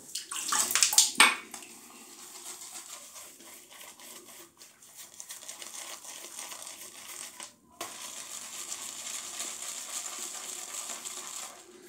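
Water splashes and trickles steadily during a wet shave with a Giesen and Forsthoff safety razor, with a louder burst of splashing at the start followed by continuous close running and sloshing water.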